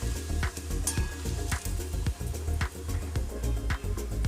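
Soya chunk kofta fry in hot oil with a constant loud sizzle, while a utensil clinks and scrapes against the pan in an irregular rhythm; no voices.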